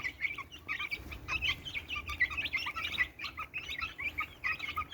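Many chicks chirp continuously in a coop, a dense overlapping chorus of high peeping calls, close and moderately loud.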